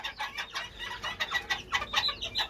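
Serama chickens cluck inside a cage, with quick overlapping clucks and short calls coming in a busy, fairly close rhythm and nothing else heard.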